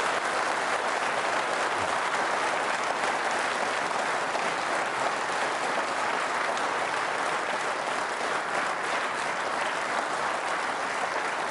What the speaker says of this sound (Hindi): आप जबरदस्त तालियां बजाकर अपने संकल्प से उन्हें अनुप्राणित करें